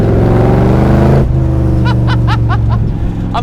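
A 1965 Shelby Cobra roars as it drives, its loud, throbbing engine note dominating before easing slightly, then continuing under a man's speech.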